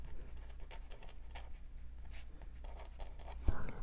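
Fine-tipped 0.08 Micron pen writing on paper, soft repeated scratchy strokes in a quiet close setting, with a brief knock near the end.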